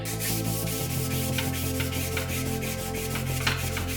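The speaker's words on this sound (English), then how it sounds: "Time to hand sand." Steady scraping strokes as a Damascus steel Viking sword blade is sanded by hand, a close continuous rub with faint tonal hum underneath and no talk.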